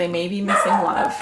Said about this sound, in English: Oh, sorry about that. That's my dog.